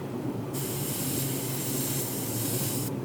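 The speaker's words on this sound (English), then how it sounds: "Let's just see if it's going to spray okay." A spray gun runs at about 25 pounds of air pressure while finishing a model ship, giving one steady hiss of about two and a half seconds that starts and stops abruptly over quiet room tone.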